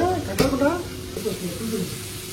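Chopped capsicum and onion sautéing in a pan for Maggi, giving a steady close sizzle with soft stirring scrapes and a brief clink near the start.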